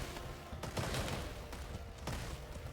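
Rapid gunfire crackles and dull mortar blasts thump in constant dense bursts in the War Selection video game battle, with no talk over the fighting.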